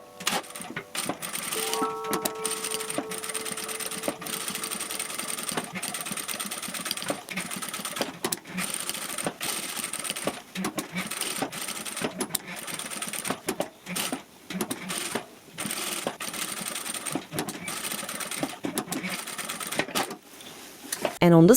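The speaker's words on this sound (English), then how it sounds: "Top stitch from the right side of the main fabric" A sewing machine runs continuously, top stitching through the fabric layers of a hair tool bag with a steady rapid whirring clatter, briefly pausing and restarting, while a voice speaks over it.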